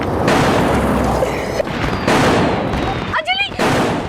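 Diwali firecrackers bursting at close range, loud dense cracking and booming that fills most of the moment with a brief gap, followed by a short high voice crying out.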